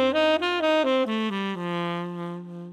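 A clean melodic run of a dominant pentatonic scale is played over a dominant 7 chord, single notes stepping downward and ringing out, close and alone with no voices.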